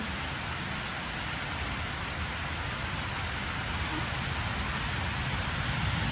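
Heavy rain pours down steadily, a dense, loud hiss of drops drumming on surfaces without a break.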